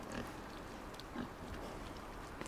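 A pig in the game Inside gives a couple of faint, low grunts over a murky ambient background, with no talking.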